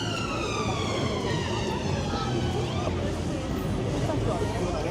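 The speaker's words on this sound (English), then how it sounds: "Right, there's an ambulance." An ambulance siren wails through a busy Friday-night street in Blackpool town centre, its rising and falling tones sweeping steadily over crowd babble and nearby voices.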